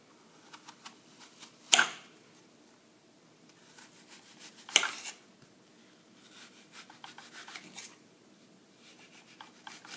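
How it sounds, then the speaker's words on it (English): Knife slicing around the core of an apple, two sharp crisp cuts standing out over faint scraping and rubbing, close and quiet with no talk. "You can decore the apple using one of these fancy corers, but I don't have one of those, so I'm just going to cut around it like that"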